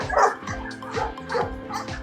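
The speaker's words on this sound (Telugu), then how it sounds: "సో మోహిత్, ఈ డాగ్ గురించి చెప్పు." A Belgian Malinois at a kennel in Hyderabad barks in quick repeated yips and bow-wows, loud and close, about five barks in two seconds.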